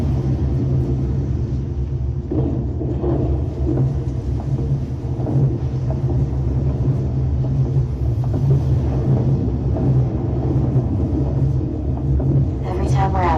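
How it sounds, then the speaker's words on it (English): A storm rages in Aven Colony as a constant deep rumble with gusty noise, loud and steady throughout, while someone talks over it. "The storm's getting worse."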